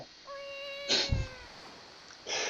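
A cat in a zombie video game lets out a drawn, tonal meow, followed by a short thump and a burst of hissy noise, clear and close with no talking.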